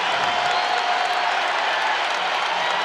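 A basketball arena crowd at an NCAA game between South Dakota State and Nevada roars steadily as a player fouls out, a dense, loud wash of cheering and applause that never lets up.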